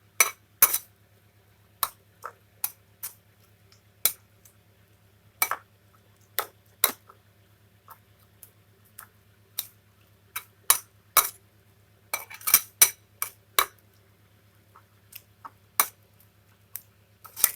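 Spoon stirring green chili sambal in a pan, sounding as scattered sharp metallic clinks and taps at an irregular pace, close and crisp over a quiet low hum, with no talk.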